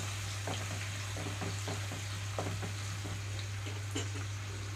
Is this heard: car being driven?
no